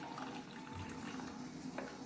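Water draining off cooked brinjal (eggplant) while making brinjal chutney, a steady soft trickling and splashing of liquid running continuously, fairly faint, with no voices.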